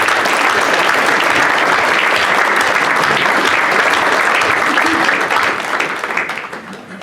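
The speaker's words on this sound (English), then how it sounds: "Ladies and gentlemen, please give them a round of applause." Sustained applause from a full audience at a club owners' meet-the-owners evening, loud and dense throughout, thinning slightly at the very end.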